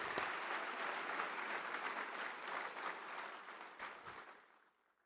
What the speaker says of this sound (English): Let's give another round of applause to the choir and Dr. Laura Little.